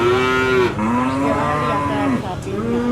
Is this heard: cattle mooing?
yes